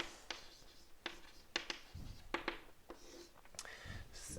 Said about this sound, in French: Là, je vais quand même écrire, attention.